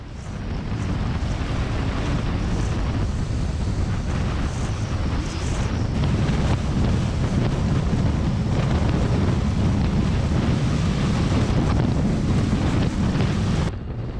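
Heavy, steady wind rush roaring past a motorcycle rider crossing long bridges through bayou country, loud and continuous throughout with no talk.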